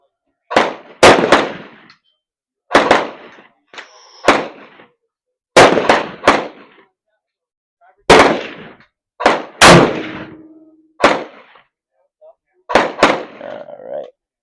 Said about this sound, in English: Somehow we shot in the same spot.